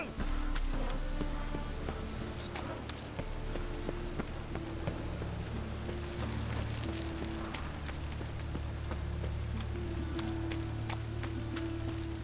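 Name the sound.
rain falling in The Witcher 3 video game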